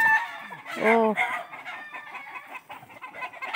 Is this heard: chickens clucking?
yes